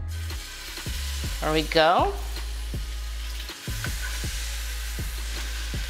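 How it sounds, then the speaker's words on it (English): Seasoned salmon blackens in a thin film of oil in a cast iron skillet, a loud steady sizzle with crackling pops and a brief scrape partway through, while a voice speaks briefly. "So I have a little trick where I blacken the part that has the seasoning on it in the cast iron skillet."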